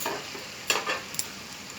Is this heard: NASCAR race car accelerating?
no